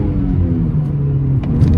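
A Volkswagen Golf R with an ECS Stage 2 clutch revs loudly, with a rising engine note that dips sharply at a quick gear change before climbing again, heard close and alone.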